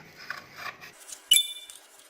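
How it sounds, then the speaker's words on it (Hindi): A knife runs around the sides of a cake baking tin holding an eggless walnut cake, giving soft scraping and then one sharp metallic clink, with quiet kitchen sounds and no talk. "बेकिंग टिन से इसके साइड्स लूज कर लेंगे चाकू के साथ"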